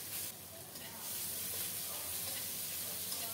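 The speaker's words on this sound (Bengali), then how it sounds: "নেড়ে চেড়ে পেঁয়াজটাকে বাদামি করে ভেজে নেব।" Chopped onion and two chopped green chilies with black cumin seeds sizzle steadily in hot oil in a pan, a continuous close bright hiss that swells slightly after the first second.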